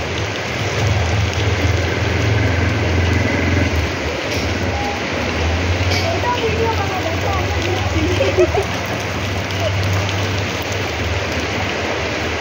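Rain falls steadily in a continuous, even patter with a low background rumble, close and constant throughout.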